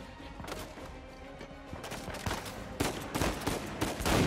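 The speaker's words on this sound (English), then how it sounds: "Who's shooting at me?" Gunfire in Uncharted 4: A Thief's End, dense rapid bursts of shots cracking over one another, growing louder and more frantic toward the end.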